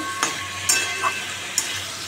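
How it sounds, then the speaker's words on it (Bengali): Spiced potato and pointed gourd curry, seasoned with cumin, coriander, turmeric and salt, being stirred in a pan: a few sharp scrapes and clinks of the spoon over a faint, quiet sizzle. "এবার কষাচ্ছি আমি"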